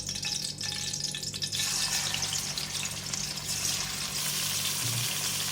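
Half a kilo of chicken frying with whole garam masala in a pan for chicken chana dal, a continuous close sizzle with bubbling, watery crackle and a brief low hum near the end.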